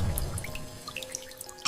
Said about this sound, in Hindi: बाथरूम से पानी टपकने की आवाज आ रही थी